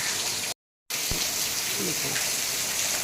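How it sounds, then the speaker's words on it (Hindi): Heavy overnight rain falls steadily in a dense, even hiss, broken by a short silent gap early on, with a faint low thump just after. "रात भर की बारिश में तो भी निकल रहे हैं काम पे।"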